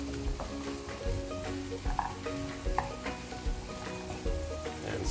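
Cauliflower stirred into a pan of mixed vegetables, including French beans, for a veg korma, with a gentle frying sizzle broken by repeated soft scraping stirs of a spoon, fairly quiet and close.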